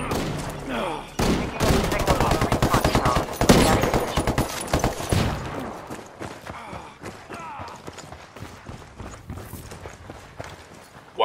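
Gunfire during a Ghost Recon Wildlands Ghost War PvP match at the Lumber Mill: loud close bursts of rapid automatic fire with scattered single shots, fading to quieter sporadic shots and footsteps, with some voice callouts.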